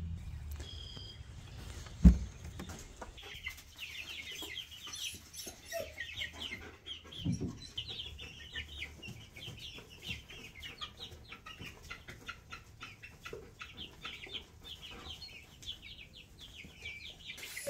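Barred Rock chickens cluck and chatter steadily at a farm by the barn, a continuous low flock murmur with scattered calls and one sharp knock early on.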